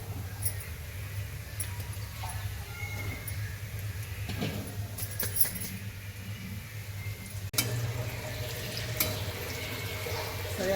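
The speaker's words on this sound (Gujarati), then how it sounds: "આપણા મૂઠિયા બધા કરી લીધા છે, હવે આપણે તરી લઈશું" Muthiya dumplings fry in ghee and oil, a low continuous bubbling sizzle under a steady hum, with a few faint clinks and a brief knock partway through.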